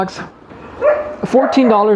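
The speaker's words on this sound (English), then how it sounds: "The neighbor's got these 2 big dogs, and when they open the door, they just run out." Two big neighborhood dogs bark and yip next door in short, loud bursts, close by, with a voice speaking under and between the barks.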